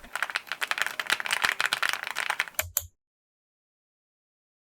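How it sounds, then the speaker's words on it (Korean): Rapid clattering keystrokes on a purple full-aluminium tenkeyless mechanical keyboard, dense and close for over two seconds, ending in a couple of sharper clacks before silence. "키보드마다 타건감도 다르고 각각 다른 매력이 있는 키보드들이랍니다"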